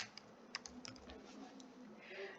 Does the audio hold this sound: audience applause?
no